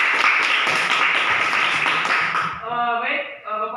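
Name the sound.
class applause for the group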